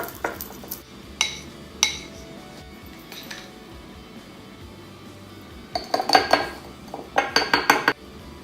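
A spoon clinks and scrapes against a jar while homemade natural toothpaste with peppermint essential oil is stirred, in scattered bursts of light clatter, quiet at first, then a quick flurry of taps near the end.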